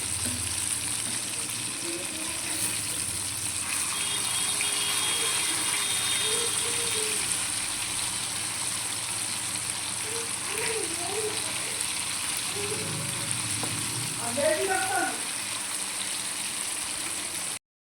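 Fish frying in a pan with onion and chili paste, a steady broad sizzle running throughout with faint bubbling, fairly close and even in level.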